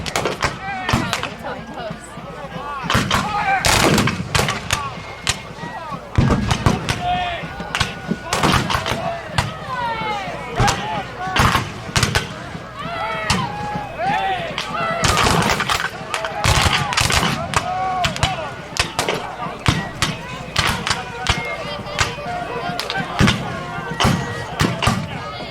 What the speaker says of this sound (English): Infantry fire from the 5th Corps off to our right.